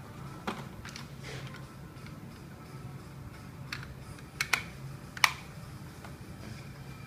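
Scattered key presses on a Raspberry Pi mini USB keyboard, a few sharp clicks standing out among faint tapping over a quiet room hum, with no voices.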